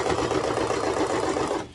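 Sewing machine stitching a neckband onto a raglan top, a loud continuous fast whirring run that stops abruptly at the end.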